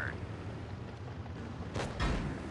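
A tank cannon fires in World of Tanks Blitz, one sharp broadband blast followed by a second burst, loud over steady low battle rumble with a voice present.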